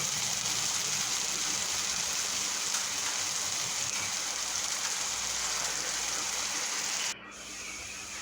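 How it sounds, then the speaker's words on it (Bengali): Onions fry with salt and garlic in a hot pan, giving a continuous, even, rain-like sizzle close by. The sizzle drops abruptly in level near the end. "লবণ পরিমাণ মতো দিয়ে ভালো করে পেঁয়াজটাকে বেছে নিতে হবে"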